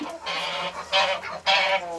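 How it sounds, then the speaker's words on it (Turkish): Harsh, nasal honking calls from fighting roosters repeat in quick bursts, loud and close, three squawks in a row like agitated fowl. "Horoz kavgası."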